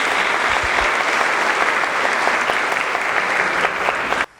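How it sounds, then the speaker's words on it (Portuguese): A church prayer-group congregation claps together, loud and sustained, filling the room for about four seconds before stopping abruptly. "Vamos aplaudir isso?"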